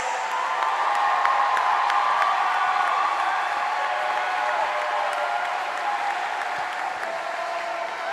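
A crowd of spectators at a Warrior Games swimming race applauds and cheers with a few whoops, a continuous echoing roar of clapping in a large indoor pool hall that eases off slightly toward the end.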